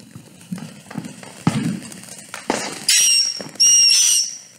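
Bumblebee fireworks going off outdoors: several sharp pops and crackles followed by two loud, sustained high-pitched whistling whines, near and clear with no talk.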